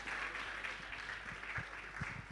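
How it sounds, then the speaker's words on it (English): Applause from a conference audience at an event on Africa's creative industry, a steady wash of clapping that carries through the clip at moderate level with no talk over it. "Please, a round of applause."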